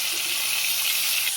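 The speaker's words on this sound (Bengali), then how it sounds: "পটলটা ভেজে নিই" Pointed gourd (potol) fries in hot oil with a dense, continuous hiss that stays close and steady throughout, with no talking.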